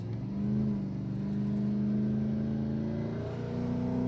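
A car fresh from an engine swap, and still fighting a fuel problem, pulls away with a steady, close engine drone whose pitch rises gradually as it accelerates, with no talking.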